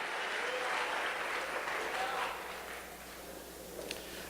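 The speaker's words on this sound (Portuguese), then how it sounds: "Pode aplaudir Jesus, vai sobrar" A church congregation applauds during a Portuguese-language sermon, a broad wash of clapping that swells for about two seconds and then thins into a quieter patter.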